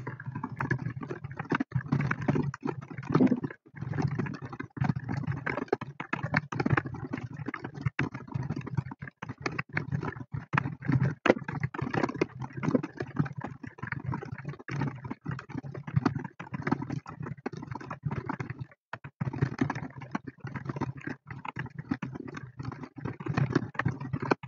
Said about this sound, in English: And let me just start typing.